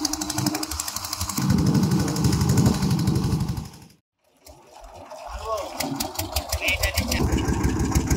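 A fishing boat engine on the river at Geonkhali hammers in a steady, loud mechanical rhythm, dropping out briefly midway before chugging back, with people talking over it.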